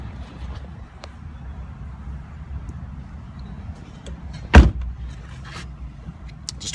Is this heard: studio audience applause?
no